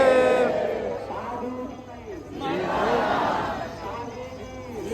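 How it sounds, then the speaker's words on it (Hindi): Large crowd of devotees at Bageshwar Dham temple, a loud steady roar of many voices with swelling cheers and shouts, close and continuous throughout. "आप पब्लिक की भीड़ और शोर सुन सकते हैं"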